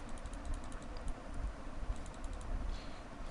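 Soft, rapid clicking of computer keyboard keys being pressed in an irregular flurry, faint and close, with no talking.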